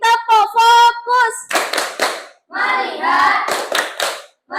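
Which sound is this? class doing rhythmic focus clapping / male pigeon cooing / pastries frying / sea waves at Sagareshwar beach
class doing rhythmic focus clapping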